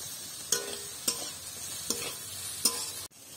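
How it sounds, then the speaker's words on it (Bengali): Chopped onion frying in a pan for momo filling, a low sizzle punctuated by four evenly spaced sharp scraping knocks of stirring before cutting off. "পেঁয়াজ কুচোটা একটু নাড়াচাড়া করে ভেজে নেব"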